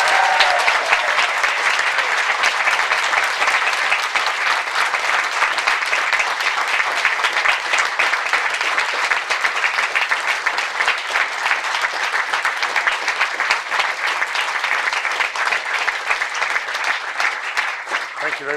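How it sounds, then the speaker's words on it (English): Graduates and guests at the Royal College of Surgeons diplomate ceremony applaud loudly and without pause for a long stretch, dense clapping with occasional whoops and cheers mixed in. "say very, very well done, with whoops and cheers and lots of clapping to the success"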